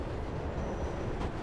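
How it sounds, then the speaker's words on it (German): A train passes in the video game Mirror's Edge, a dense, loud rumbling roar of rail noise filling the moment with steady low-heavy intensity. "Da kommt ein Zug."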